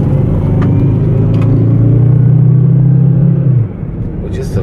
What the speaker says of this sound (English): Just the tiniest little push on the pedal, and you feel that turbo spool up and hear it.